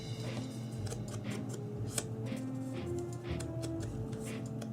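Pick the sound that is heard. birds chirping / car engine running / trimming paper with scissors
trimming paper with scissors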